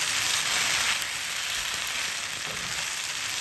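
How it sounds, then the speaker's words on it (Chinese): Beef ho fun with soy sauce tossed rapidly in a wok over high heat, a steady close hiss of sizzling oil with faint scraping of the noodles, no voices. "继续开大火快速翻炒均匀"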